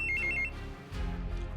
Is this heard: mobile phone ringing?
yes